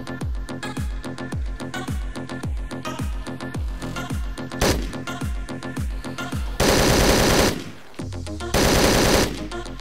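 Rapid automatic AK rifle fire in the video game Hotline Miami 2, loud repeated bursts of shots over a pounding electronic soundtrack, with a couple of noisy sustained blasts later in the clip.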